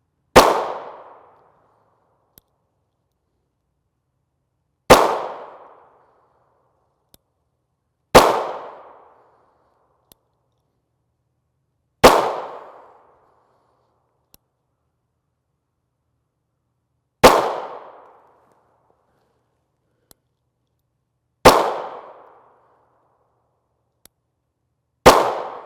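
Seven loud 9mm shots from a Springfield Hellcat micro-compact pistol firing IMI Blue Tip rounds, each a sharp crack with a short decaying tail, spaced a few seconds apart with silence between.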